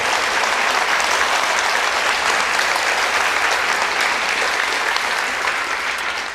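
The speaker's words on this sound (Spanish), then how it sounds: "denle un aplauso, por favor" Audience applause at a church talk, a dense, loud and even wash of many hands clapping from start to finish with no voices over it, easing slightly at the very end.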